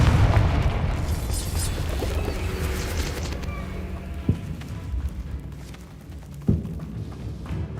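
A Confringo fire spell blasts in the video game Hogwarts Legacy, with two sharp booming impacts a couple of seconds apart over a constant rumbling game ambience.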